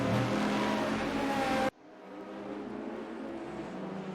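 Porsche 935 race cars at Sonoma Raceway in Group 5 racing, a loud engine roar that cuts off abruptly, leaving a quieter, distant engine drone beneath.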